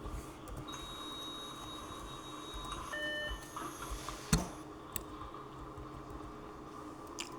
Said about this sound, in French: Là, j'ouvre les portes arrière.